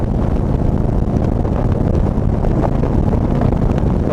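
A Harley-Davidson Road Glide motorcycle cruises at 80, its engine drone buried in loud, constant roaring wind rush that fills the whole stretch without a break.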